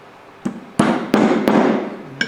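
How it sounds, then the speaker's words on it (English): A hammer strikes a sassafras wooden bowl, five sharp close knocks at irregular spacing, each ringing briefly before the next, loud and alone. "I like to do it this way, starting with a hammer."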